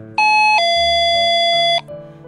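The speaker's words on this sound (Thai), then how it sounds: "เสียงกริ่งหน้าร้านดังขึ้นตอนลูกค้าเดินเข้ามาในร้าน" A shop entrance doorbell rings as a customer walks in, giving one loud two-tone electronic chime with a bright, sustained ring that fades quickly, heard close and alone.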